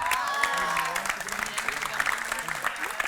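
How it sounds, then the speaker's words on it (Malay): Studio audience applauding the sponsor Al Jazari on the Malaysian show Dr Muda, steady dense clapping filling the room, with a voice or two and some tonal sound running underneath. "Ya, tepukan untuk Al Jazari"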